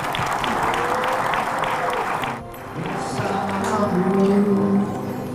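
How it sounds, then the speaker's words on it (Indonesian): Audience applause for an honored guest after a song at an event, brisk clapping that fades out midway and gives way to murmuring voices and a sustained tonal sound. "Kita kasih tepuk tangan ya."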